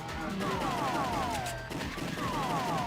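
Gunfire sounds from a Sega Master System video game, with rapid repeated shots and descending electronic whistling tones in bursts, loud and continuous over the game's background noise.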